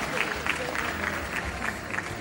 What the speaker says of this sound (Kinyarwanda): Tukomeza kubakira n'amashyi menshi cyane